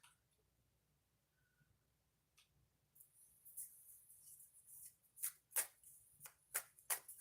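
Oracle cards are shuffled in a quick series of papery riffles and slaps, faint at first and then louder, near and alone without talk.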